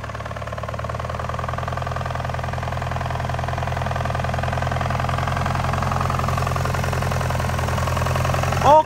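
An original Isuzu 4KH1 diesel engine, 3.2 litres and 105 hp with 95 mm bores, idles steadily and close with a low, even knocking rumble that grows slightly louder, followed by a brief knock at the end.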